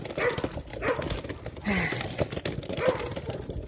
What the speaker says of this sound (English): you don't have to listen to the dogs barking